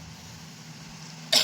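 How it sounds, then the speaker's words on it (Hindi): A single short cough bursts out near the end after a stretch of quiet room hum, from a girl sick with fever, body pain and a severe cough. "इतनी खांसी आ रही।"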